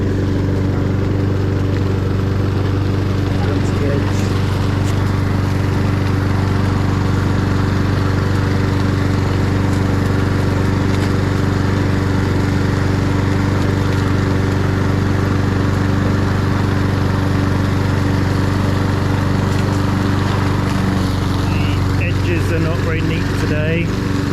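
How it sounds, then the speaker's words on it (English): A lawn mower runs continuously in a city garden, giving a steady, close, droning engine hum with a strong low tone that stays even throughout. "Take the last little bits up with the mower"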